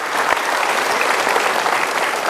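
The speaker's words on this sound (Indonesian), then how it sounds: "Baik, kita berikan tepuk tangan." Sustained audience applause at a motivational seminar, dense and even, filling the room at a steady loud level from start to finish.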